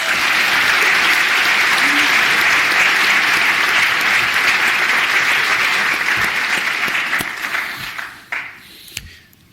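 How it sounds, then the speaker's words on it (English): Sustained audience applause fills an athletics awards night ceremony, loud and dense for about eight seconds before thinning into scattered claps and fading out. "Please join me in a round of applause to thank everyone who has celebrated and helped to support our Go You Bears"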